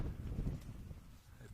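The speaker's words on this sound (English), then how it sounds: "Sorry about the wind buffeting our car." Wind buffets a parked car on a gusty day, a low rumbling roar of uneven gusts, close and fairly steady, with no talking.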